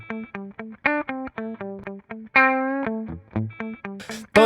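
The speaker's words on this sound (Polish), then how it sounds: "Teraz długie zaczynają nabierać pogłosu." Electronic synthesized notes play alone, loud and close: quick staccato blips alternate with longer sustained tones that ring out with a reverb tail while the short ones stay dry.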